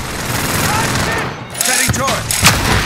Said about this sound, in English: Sentry gun action